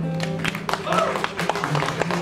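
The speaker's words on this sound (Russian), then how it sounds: "Просто аплодируем." Audience applause in a hall, steady dense clapping over about two seconds, with talk and voices mixed in.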